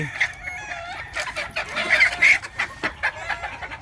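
Gamefowl stags, including Gilmore, Boston Black and gray birds, cluck and call in a series of short, irregular bursts close by, with a couple of louder squawks in the middle.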